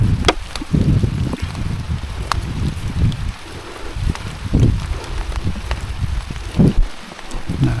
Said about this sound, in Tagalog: Sabi ko na nga ba ulan, maulanan tayo.